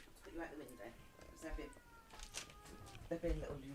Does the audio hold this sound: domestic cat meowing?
yes